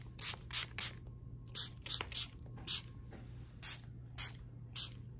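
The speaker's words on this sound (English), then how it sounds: "Let me spray. With a little bit of a toner." A facial toner spray bottle hisses in a steady series of about ten short, quiet pumps, close by and evenly spaced.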